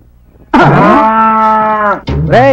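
A buffalo lets out a loud, close moo that holds steady for about a second and a half, then begins a second call after a brief pause.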